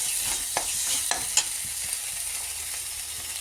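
An onion cashew paste with ginger and garlic fries in a pan, giving a low, steady sizzle broken by a few sharp scraping taps from stirring, with no one talking.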